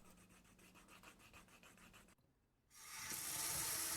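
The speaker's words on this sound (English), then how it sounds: "If you also put it on the edges, you can use the moisture to burnish it." Leather edges being burnished on a heart-shaped leather bag piece after a coat of resist, a steady rhythmic rubbing that gives way to a louder, brighter friction sound near the end.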